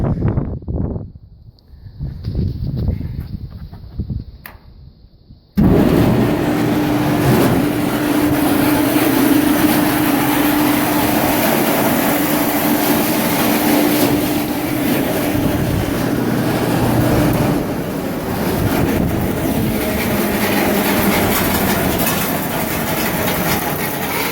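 Roller mill with an auger in place feeding grain, starting abruptly after a few seconds of quieter rustling and then running as a loud, steady mechanical rumble and clatter that continues unbroken, close by.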